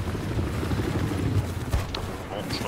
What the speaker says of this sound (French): Moi, je suis en train de conduire mon hélico